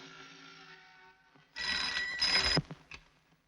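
Telephone ringing in a Hindi comedy film scene, a loud burst of ringing that starts abruptly, holds for about a second, then cuts off, followed by a few faint clicks.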